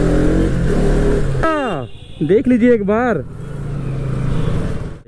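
Bajaj Pulsar NS200 motorcycle engine droning steadily through traffic, briefly cut by a voice mid-clip before the engine noise returns loud and close.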